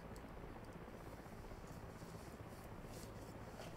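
KA-50 coaxial-rotor helicopter in a VR flight sim, a steady, dense broadband rotor and engine roar holding at an even level throughout, with no voices over it.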